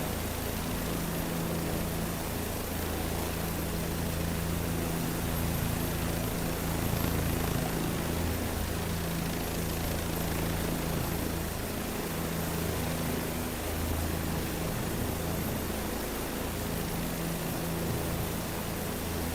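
A helicopter roars in a continuous, steady wash of rotor and engine noise that fills the whole stretch without pause, heard close and fairly loud, with no talking over it.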